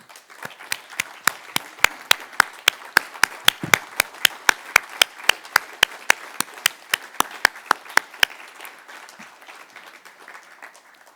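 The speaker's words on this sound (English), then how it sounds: "Please join me in giving all of our giants, our veterans, a round of applause." Evenly spaced, sharp claps repeat in a steady rhythm for about eight seconds as an audience applauds veterans at a city celebration, then fade to a soft background murmur.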